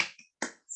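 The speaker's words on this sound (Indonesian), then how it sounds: "Tepuk semangat." A classroom spirit clap, tepuk semangat, led by a teacher: a few quick crisp claps and snaps in short bursts, close and clear with silent gaps between.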